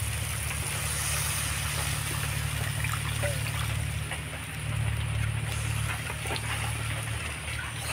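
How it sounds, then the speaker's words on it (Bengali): Water is poured into a pan of spiced fig curry, giving a steady trickling, splashing hiss that runs the whole time under a low constant hum. "এবার পরিমাণ মতো দিয়ে দিব জল।"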